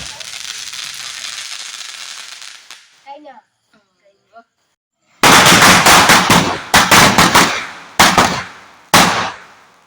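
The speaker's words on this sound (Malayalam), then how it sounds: "പടക്കം പൊട്ടിയിട്ടേ സൗണ്ട് കൊണ്ട് ചെവി പൊത്തി പിടിക്കുക" Sharp, loud firecracker bursts at a Vishu celebration in Kerala crack out in a rapid cluster, then a few single bangs spaced apart, after a stretch of hissing and quiet.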